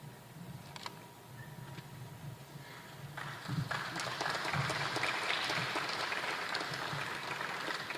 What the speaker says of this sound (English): I'm glad you clapped.